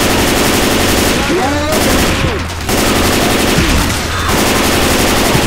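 Rapid bursts of automatic gunfire in the video game Left 4 Dead 2, loud and close, coming in clustered volleys with short gaps, and a voice talks over it.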